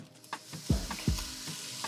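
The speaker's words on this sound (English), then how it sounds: "we're gonna start by browning 1 pound of ground beef." Ground beef browning in a soup pot, steady sizzling and frying with a couple of scraping stirs of a utensil against the pot, close and moderately quiet.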